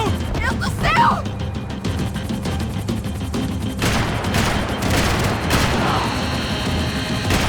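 Heavy gunfire in Max Payne 3, with sustained loud volleys and booming impacts amid chaotic action, while voices shout over the din.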